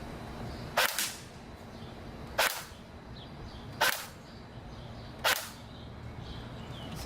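Four sharp, snappy shots from a full-metal AK47 airsoft rifle with an M100 spring, fired through a chronograph, evenly spaced about one and a half seconds apart, each a crisp crack over a quiet hum.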